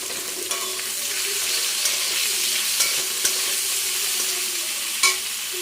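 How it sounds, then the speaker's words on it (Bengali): Onions and chili sizzle steadily in hot oil in a pan, with occasional stirring clinks over the continuous frying hiss. "তো পেঁয়াজটা একটু ভাজা ভাজা হবে,"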